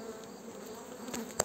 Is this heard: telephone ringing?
no